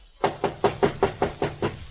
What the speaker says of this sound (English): A knock on the door produced results.